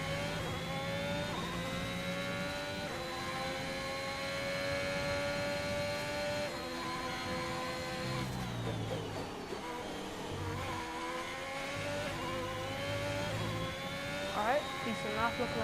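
Race car engine in an F1 racing video game on a lap, whining steadily at high revs with rising pitch sweeps on upshifts and dips while braking, and someone talking over it.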